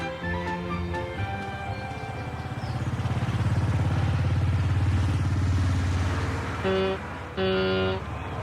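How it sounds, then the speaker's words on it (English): A car horn tooting in a village, a couple of short honks early, then an engine revving loudly, followed by two longer blasts near the end, close by and without talk. "This is country horn. And this is the town horn."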